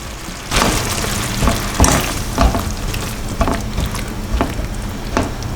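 Sliced luffa and shimeji mushrooms stir-fry in a pan over the heat, giving a steady close sizzle with repeated scraping and tossing strokes of the spatula.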